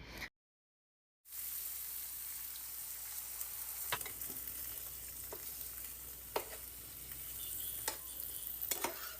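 Fish fries in hot oil in a pan at an outdoor winter picnic, a steady sizzle broken by several sharp scraping clicks of a spatula stirring, after a brief moment of silence at the start, with no voices.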